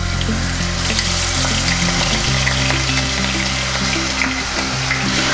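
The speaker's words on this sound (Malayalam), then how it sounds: "ഓയിലും ഗീയൊക്കെ നല്ലോണം മെൽറ്റ് ആയിട്ടുണ്ടെങ്കിൽ നമുക്ക് ജിഞ്ചർ ഗാർലിക് പേസ്റ്റ് ചേർക്കാം" Ginger garlic paste frying in hot melted oil and ghee for a dhaba-style chicken curry; a loud, steady, close sizzle with crackling spatter, continuous throughout and no talking.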